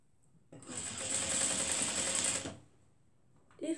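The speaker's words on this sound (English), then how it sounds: "put down your sewing machine feet, adjust it, make sure you sew it where you want it to be" A sewing machine runs steadily for about two seconds while stitching fabric for a skirt, a loud whirring buzz that starts abruptly and stops cleanly, followed by a brief softer mechanical clatter.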